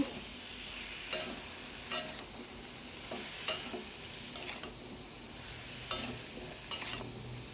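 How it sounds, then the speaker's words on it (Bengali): Pumpkin chunks for chhokka are tossed in a pan with salt, turmeric, cumin, coriander and chili: rhythmic scraping strokes roughly every second over a faint, steady sizzle, close and fairly quiet, with no talking. "জিরা, ধনিয়া, লঙ্কা দিয়ে ভালো করে নাড়াচাড়া করে দেব।"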